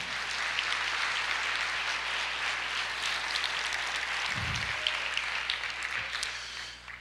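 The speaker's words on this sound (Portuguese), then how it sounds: "Você pode aplaudir o Senhor?" Congregation applauding the Lord during a Portuguese-language church sermon, a steady, dense wash of clapping across the room that holds for the whole stretch with no voice over it.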